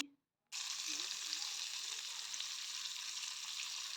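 Sating fish sizzle as they fry in hot mustard oil, a loud, steady hiss that starts abruptly after a brief silence and continues close up, with a few faint low murmurs in the background.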